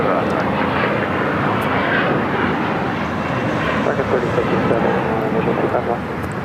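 Airliner coming in to land on runway 25 left at LAX, a continuous loud engine roar with radio chatter and talk running faintly underneath.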